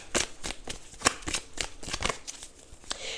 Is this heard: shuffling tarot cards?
yes